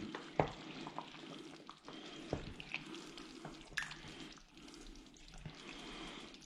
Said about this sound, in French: Et je vais un peu tout remuer, au moins ça mélange bien.